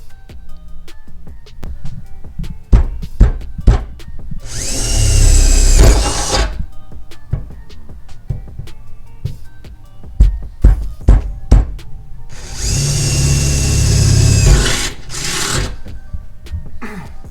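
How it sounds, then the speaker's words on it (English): A power drill whines loudly in two sustained bursts, drilling holes in the trunk of a 2018 Mustang GT, separated by clicks and clatter of handling tools. "we're getting ready to drill it out."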